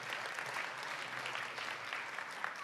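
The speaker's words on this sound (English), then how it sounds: "Please, let's give him a round of applause." A room of delegates at a senior-level development meeting in the ECOSOC chamber breaks into applause, a dense, even wash of clapping, somewhat distant and soft, running without pause.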